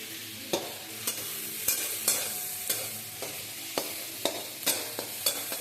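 Chopped raw tomatoes fried in a pan and stirred with a utensil, giving a steady sizzle broken by about a dozen sharp scraping clicks at an irregular rhythm, close and clear with no voices.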